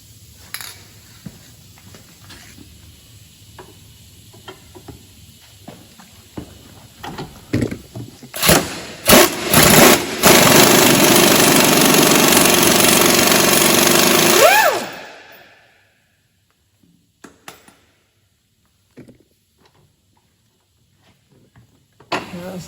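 Wheel hub bolt on a Renault Clio worked loose with tools after wire brushing and penetrating oil: metallic clanks, then a loud sustained rattling power-tool burst that cuts off abruptly, followed by near silence and small clicks.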